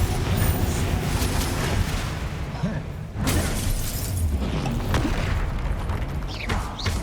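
Spell explosions from Bombarda and Confringo in Hogwarts Legacy, heard as a dense, loud run of booming blasts and shattering bursts, with a sharp fresh impact near the middle and more bursts toward the end.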